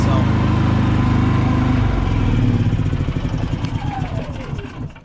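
A Predator 3500 watt inverter generator runs inside an enclosed trailer, its small engine droning loud and steady with a rattly mechanical hum that tapers and settles toward the end.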